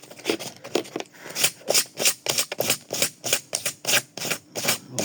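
Rapid, rhythmic scratchy strokes of sandpaper rubbing back and forth against a bike inner tube's rubber, about a dozen abrasive swipes close to the microphone.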